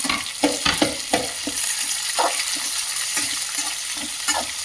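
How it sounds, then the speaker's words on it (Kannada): Curry leaves and chopped onion stirred with a spoon in a hot oiled pan for mandakki, a steady sizzle broken by repeated scraping strokes of the spoon, close and moderately loud. "ಸ್ಪೂನಿನ ಸಹಾಯದಿಂದ ಎಲ್ಲ ಈಗ ಮಿಕ್ಸ್ ಮಾಡ್ತಾ ಇರಬೇಕು."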